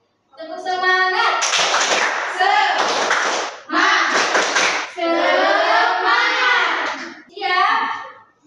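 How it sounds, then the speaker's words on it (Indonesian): A primary school class performs a rhythmic spirit clap, children chanting together in bursts while clapping in patterned groups, loud and close with short pauses between phrases. "Tepuk semangat."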